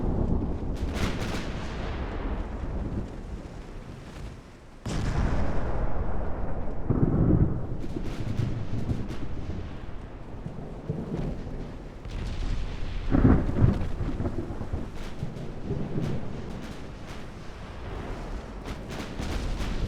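Naval gunfire from warships in a sea battle game set in 1946, with deep booming salvos and rumbling blasts arriving irregularly at a distance, one sharp onset partway through, and no talking.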